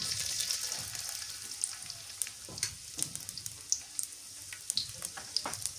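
Chopped onion fries in a pan with a soft, crackling hiss and scattered small pops and spatters, fairly quiet and close, with no talking.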